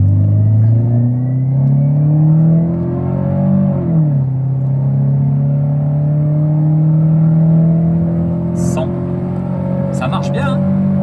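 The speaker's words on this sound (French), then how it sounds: "j'ai le pied sur le frein, j'accélère un peu" A Citroën Xsara with an automatic gearbox revs and accelerates up close, its engine drone climbing, dipping briefly, then settling into a steady loud hum while someone talks over it.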